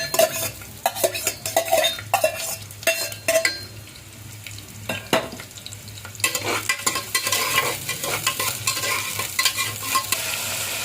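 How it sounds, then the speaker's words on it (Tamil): Onions frying in about fifty millilitres of oil for a mutton curry, with soft steady sizzling under repeated sharp clinks and scrapes of a spoon stirring against the pan. "மட்டன் அதுக்கு ஒரு 50 எண்ணெய் ஊற்றிருக்கு. வெங்காயத்தை அதுக்கு வேக வைக்கணும்."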